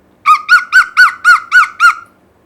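A voice imitating a parrot, seven sharp, rhythmic squawks in quick succession, loud and close with silence around them.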